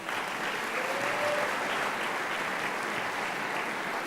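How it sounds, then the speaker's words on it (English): Audience applause at an athletic awards banquet, a steady, moderately loud wash of many hands clapping for the award-winning players, continuous and unbroken throughout. "Let's give those ladies a round of applause"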